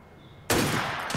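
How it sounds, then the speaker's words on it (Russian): A single sharp, loud gunshot in Assassin's Creed Syndicate bursts out of near silence and rings briefly, followed by a quick second crack. "похоже, был второй выстрел."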